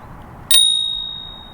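Single bright ding of a trigger-operated bicycle bell on an EGO Movement Vreni 25 e-bike, close and clear, its metallic ring decaying slowly over about a second.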